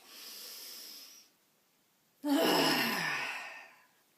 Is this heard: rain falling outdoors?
no